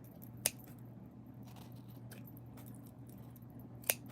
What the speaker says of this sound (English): You just can run your scissors through there and you'll catch some of them.